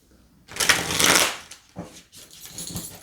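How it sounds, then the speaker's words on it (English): A deck of tarot cards is shuffled by hand in two bursts, a long loud riffle of flicking cards followed by a shorter, softer shuffle, close up with no talking. "We're going to give one more shuffle to mix those in."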